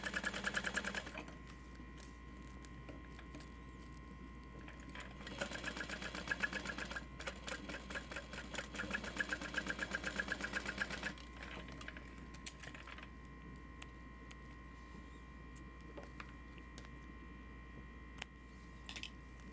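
Sewing machine running in quiet stretches of rapid stitching, top stitching rows on a bag made as a backpack, with pauses between bursts and no talk.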